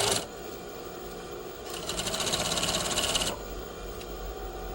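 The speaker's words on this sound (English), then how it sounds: "we stitch with the sleeve up as opposed to the armhole up" A sewing machine setting a sleeve into an armhole, stitched with the sleeve side up: a steady mechanical hum, then a fast rhythmic stitching burst of about a second and a half before it drops back to a quieter whir.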